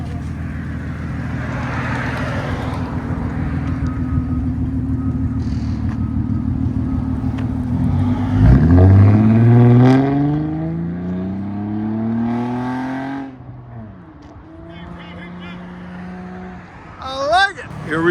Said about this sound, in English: Honda Accord V6 6-speed manual with a Rev 6 J-pipe, 3-inch high flow cat